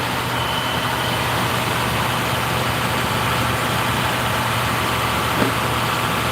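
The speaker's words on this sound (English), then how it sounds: "They got the RPMs up on the truck so that the PTO allows them to operate the lift on the back of the truck." A truck engine runs at raised RPM to power a rear lift through its PTO, a loud steady droning hum close by with no change in pitch.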